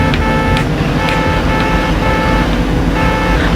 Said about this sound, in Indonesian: Ini kok klakson terus anjir.